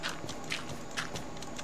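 Horse hooves clip-clopping in Minecraft survival play, a quick run of light, even steps close by with faint background noise and no talk.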